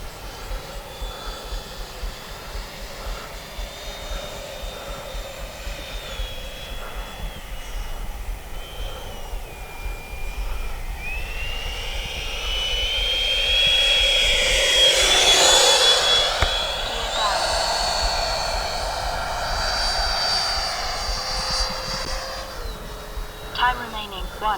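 A Freewing F-22 high-performance RC model jet whooshes past, its ducted-fan whine swelling to a loud close pass midway and fading, with a voice talking over it.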